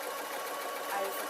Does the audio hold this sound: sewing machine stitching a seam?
yes